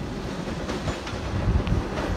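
An unrefurbished Comeng 320M suburban electric train passes near the North Melbourne flyover, a steady rumble of wheels on rails with wind buffeting the microphone and a few rhythmic clanks as carriages roll by.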